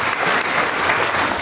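A wedding congregation breaking into brief, lively applause for a reverend, many hands clapping densely at close range for about a second and a half.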